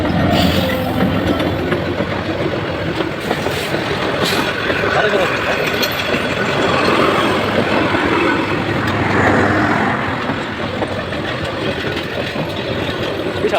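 A train passing a level crossing near the Jamuna Bridge, heard from the roadside: a loud, steady rumble of rolling wagons mixed with idling engine noise, with voices faintly underneath.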